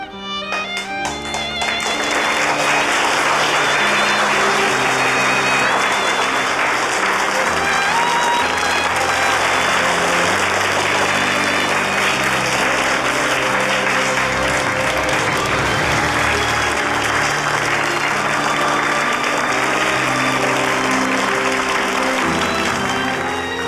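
Sustained, loud applause from a room of classmates fills the whole stretch, dense and steady with no voices rising above it.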